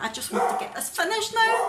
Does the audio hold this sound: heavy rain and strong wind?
no